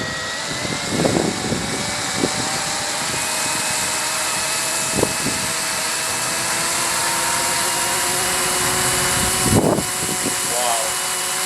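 The rotor of an Eachine E200 UH-60 Black Hawk RC helicopter spins on a windy terrace, making a steady, close whirring hum with a high whine, joined by brief bursts of voice.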